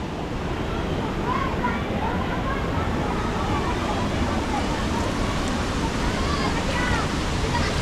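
Subhedar waterfall at Uchale near Murbad pours in a steady, dense roar of falling water, loud and unbroken throughout, with no speech.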